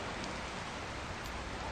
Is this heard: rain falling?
yes